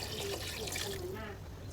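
Tap water runs steadily into a pot of pork sinigang being cooked, a continuous close splashing pour with no pauses, faint voices in the background.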